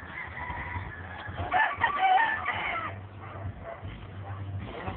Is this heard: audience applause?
no